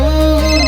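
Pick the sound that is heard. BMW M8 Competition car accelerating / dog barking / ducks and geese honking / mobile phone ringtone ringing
mobile phone ringtone ringing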